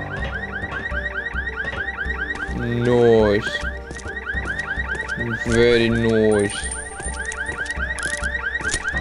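A car alarm in the video game Land of the Dead: Road to Fiddler's Green cycles through its repeating electronic tones without pause, loud and steady, with two louder bursts of other game noise and a short spoken remark over it.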